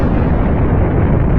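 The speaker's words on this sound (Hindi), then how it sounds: "समय की शुरुआत एक महाविस्फोट से हुई।" Big Bang explosion sound effect, a loud, dense, rumbling blast that holds at full strength for about a second and a half with no decay and no voices.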